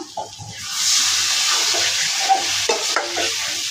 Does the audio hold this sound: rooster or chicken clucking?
no